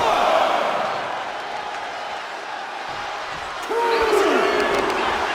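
WWE 2K25 wrestling arena crowd roars in the game, a broad wash of cheering that dips and then swells again, with a brief whoop near the end.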